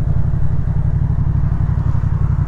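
A Yamaha MT motorcycle rides along, its engine a loud, steady low rumble close to the rider with a constant droning pulse and no clear revving changes throughout.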